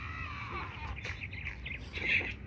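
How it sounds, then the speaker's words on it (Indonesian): Bird calls in the dragon video game Hungry Dragon, a run of bright chirps and tweets over a low game hum, fairly close and steady, with no voices. "Ada burung lagi."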